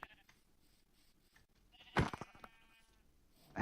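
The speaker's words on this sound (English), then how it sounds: "I've got sheep" Sheep in a video game give one clear, close bleat with a wavering tone over quiet background noise.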